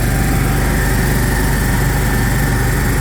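Electric 110-volt air compressor mounted on a 2012 Chevy Silverado K3500HD utility service truck, running loud and close with a steady, buzzing motor drone and rapid pulsing chug, no talking.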